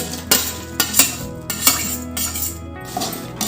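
A metal spoon scrapes and clinks against a pan in an irregular rhythm while jowar murmura chivda with fried peanuts, garlic and coconut is stirred, with a soft sizzle underneath.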